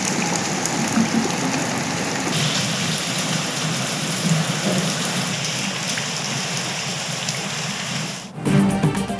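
Steady, heavy rain pours across Karachi's Malir, Gulshan-e-Hadeed and Super Highway areas, a dense, continuous hiss that holds close and loud for most of the stretch before briefly dropping away and returning.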